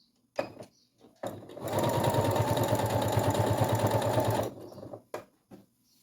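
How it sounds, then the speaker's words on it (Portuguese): A sewing machine stitches fabric close to its edge, with a steady buzzing run of about three seconds between short bursts and taps before and after, close and loud. "eu vou passar uma costurinha agora aqui, outra costura aqui, bem próximo aqui da extremidade aqui do tecido"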